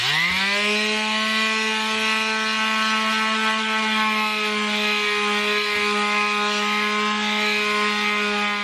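Glue residue sanded off with 220-grit sandpaper, a loud, continuous droning whine that holds steady throughout with no pauses and no voices.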